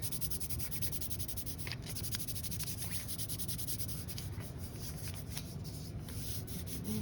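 Dynamic tape being rubbed down onto a foot and anchored at the top without tension, a steady close-up dry rubbing and scratching with faint ticks, continuous and alone.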